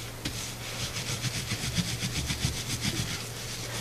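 A hand rubs a sheet of paper down over an inked bee print block, a steady soft scuffing and brushing that repeats in quick strokes for several seconds, close and fairly quiet over a low constant hum.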